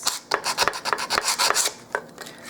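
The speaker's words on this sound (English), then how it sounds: "Sanding off those spots." Sandpaper scrubs across a small cheap wooden dollhouse miniature dresser in quick irregular rasping strokes, close and crisp, with no talking.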